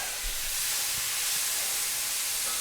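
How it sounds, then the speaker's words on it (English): About four cloves of minced garlic sizzle steadily in a hot pan while being stirred during birria preparation, a continuous close hiss with no voices over it. "now I'm going to add about 4 cloves of minced garlic in there, and we'll stir that around"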